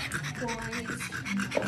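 A dog pants close by in quick, steady breaths, with background voices and a brief sharper sound near the end.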